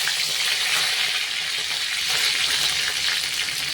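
Curry leaves drop into frying elephant foot yam, a dense, even crackling sizzle that stays close and loud throughout with no voices.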